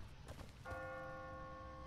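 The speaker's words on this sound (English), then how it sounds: "What kind of church bell goes off at 20 past the hour?" An automatic church bell strikes once in The Walking Dead video game, a clear ringing tone that sustains and hums over low background rumble.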